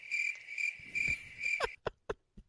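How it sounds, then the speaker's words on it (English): Cricket chirps played as a comedic sound effect on a wrestling discussion show, a steady pulsing trill in four bursts, then a few sharp clicks and knocks as it stops. "Can you give me crickets for Paul Ellering again, please?"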